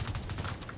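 Rapid gunfire from a firefight in The Division 2, a brief dense stretch of sustained automatic shots at a moderate, somewhat distant level.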